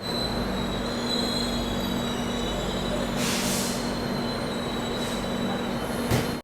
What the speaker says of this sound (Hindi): हमारी ये खिचड़ी दुरंतो एक्सप्रेस राउरकेला जंक्शन से फिलहाल गुजर रही है।